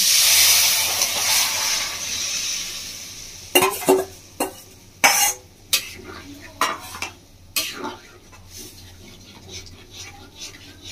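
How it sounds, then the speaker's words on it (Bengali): Curry poured into a hot pan in a Bengali village-style kitchen, with a dish of chela fish, radish, potato and lentils: a steady hiss, then a run of sharp scraping and clattering stirs against the pan, with no voices. "এবার আমি তরকারিটা ঢেলে দিচ্ছি।"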